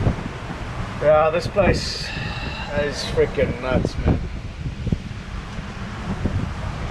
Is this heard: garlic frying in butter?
no